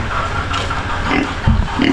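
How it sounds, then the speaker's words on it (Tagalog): Farm pigs, a sow with newborn piglets nearby, grunt low and close in a pen, short repeated snorts with a louder grunt near the end and no talking. "may mga bagong anak ang baboy"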